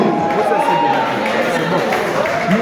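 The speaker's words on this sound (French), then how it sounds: "Est-ce qu'on peut applaudir au niveau 50?" Audience applause and crowd noise fill a gathering, a steady dense wash of clapping and cheering with voices mixed in throughout.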